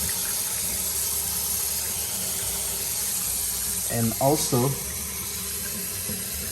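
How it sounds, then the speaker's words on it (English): A leaking kitchen faucet runs in a steady, close hiss of flowing water, with someone briefly speaking over it midway. "as I turn the kitchen faucet on here, I noticed there's some leakage right here"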